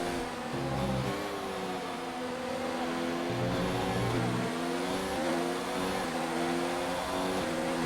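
An F1 race car from the game F1 2019 drives through rain in another car's spray, engine droning loud and steady with shifting pitch as it accelerates and changes gear.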